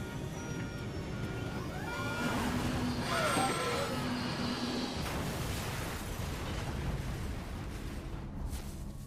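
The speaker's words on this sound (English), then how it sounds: "The fiery explosion and sudden impact with the ground" A Nigeria Airways 2120 airliner crash dramatized: a roaring, rumbling blast and ground impact build and swell, with rising tones and crackle, then a long turbulent rumble fades off.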